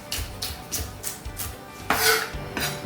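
Green onion, white and green parts, is chopped with a knife on a cutting board for garnish: a close, even series of crisp thuds at a steady pace, ending in a louder, longer scrape.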